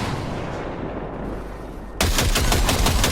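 Gunshots at targets in the video game Cyberpunk 2077 start as a steady loud roar, then break into a rapid burst of sharp, repeated cracks, close and forceful.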